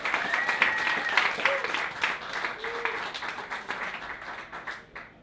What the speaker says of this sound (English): Let's give one more big round of applause for John Knight Jr. and Sr., everybody.